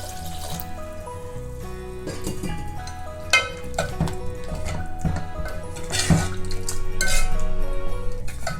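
Water poured into brinjal gotsu in a cooking pot and stirred, with a metal spoon clinking and scraping against the pot, splashes and liquid sloshing, close and clear with no talk.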